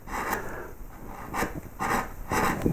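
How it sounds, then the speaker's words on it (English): A wood carving gouge scoops across carved wood in four or five rhythmic, close-up scraping strokes, each a dry rasping sweep, with no talk. "gouge and just run across here like this. So I'm just scooping this out a little bit."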